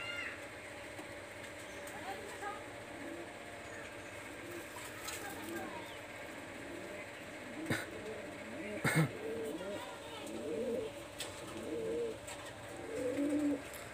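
Low coos from Pakistani high-flyer pigeons repeat softly amid a busy backdrop of other birds chirping, with occasional sharp clatters and a voice in the distance.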